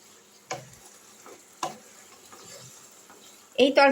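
Fried dhoka pieces tipped into a simmering chana dal gravy, with two sharp spoon knocks against the pan over a low bubbling, then a louder burst of stirring and clatter at the end.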